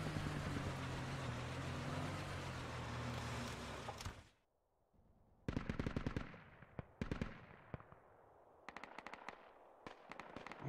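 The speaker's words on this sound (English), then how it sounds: "Shalorin, did you just shoot? What? Who's shooting?" Automatic gunfire in the military shooter Project Reality: a dense sustained burst, then a gap and several sharp clustered volleys of rapid shots, loud and close.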